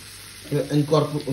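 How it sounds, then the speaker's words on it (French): Fine semolina sizzling softly in melted butter in a pan for panjeeri, a low crackle that continues while a voice talks over it. "Le beurre est bien fondu, je rajoute un petit peu de semoule"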